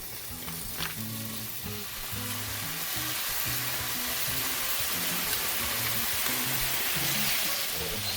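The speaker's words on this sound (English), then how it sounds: "I take all the juices and oil and balsamic in the bag, and I'm just going to add that to the pan so we get some oil in there" Steak juices, oil and balsamic hit a hot cast iron pan, setting off a loud, continuous sizzle and spatter that builds slightly and stays steady, with a few low knocks underneath.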